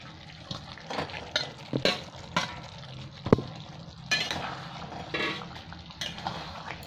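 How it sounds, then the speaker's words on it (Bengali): Fried eggplant pieces dropped into a yogurt gravy and stirred in a pan, with a scattering of sharp clinks and scrapes of a utensil against metal over a soft background, no talking. "এবার আমি ভেজে রাখা বেগুনগুলো দিয়ে দিলাম"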